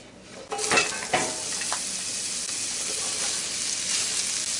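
Peppers and other vegetables are dropped back into a hot cast iron skillet, setting off a loud burst of sizzling and a couple of clanks. A steady, close hiss of frying follows.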